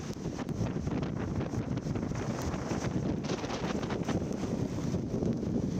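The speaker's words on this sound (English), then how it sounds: "heavy winds." Heavy wind roars and buffets continuously, a loud, rough gusting rush that rumbles against the microphone with no pause.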